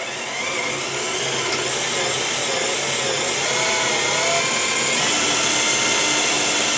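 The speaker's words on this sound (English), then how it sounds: "It's already engaged the wood and it's starting to drill into it." A power drill bores into wood with a loud, steady, continuous whirring whine that holds throughout, with no other sounds.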